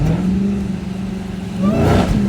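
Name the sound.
Dodge Charger SRT Hellcat engine revving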